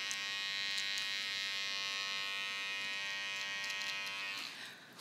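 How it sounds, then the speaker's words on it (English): An electric hair trimmer runs steadily as it trims a beard, a close, constant high buzz that holds for several seconds before easing off near the end. "Use your corners, the corners of your trimmer."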